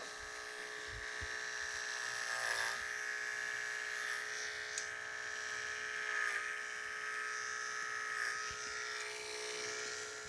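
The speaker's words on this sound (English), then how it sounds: "So very slowly let that clipper work." Electric hair clippers buzz steadily and close up while cutting hair during a side-part fade haircut, with slight dips in pitch as the blade moves through the hair.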